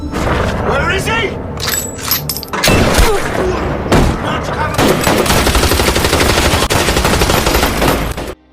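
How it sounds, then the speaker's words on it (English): Rifle fire in an action film shootout rings out in loud, rapid bursts and sharp cracks with heavy booms, packed into a dense, continuous battle soundtrack. "Max appears and starts shooting at them with his rifle."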